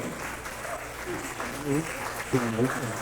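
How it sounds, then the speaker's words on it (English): Audience applause at a chapter achievement recognition, a steady wash of clapping running throughout with a voice speaking over it partway through. "Please give a big round of applause for this achievement of Carolina chapter"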